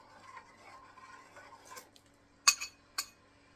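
A utensil stirs a rau câu jelly dessert mixture in a pot, mostly faint scraping followed by two sharp, close metallic clinks near the end.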